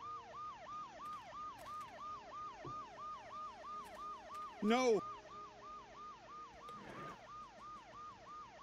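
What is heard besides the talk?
ambulance siren in Dead Synchronicity video game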